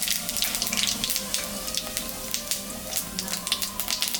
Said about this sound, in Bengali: তেল গরম হয়ে গেছে, আমি জিরা আর শুকনো লঙ্কা সম্বরণ